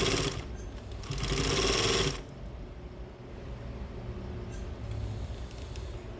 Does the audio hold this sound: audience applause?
no